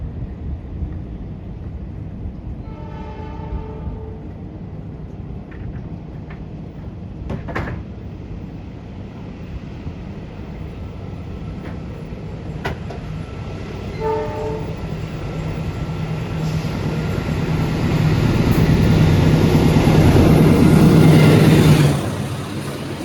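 KA Malabar economy passenger train running at full speed, about 120 km/h, on single track toward Kroya: steady rolling rumble with brief horn-like tones, swelling into a loud close roar near the end.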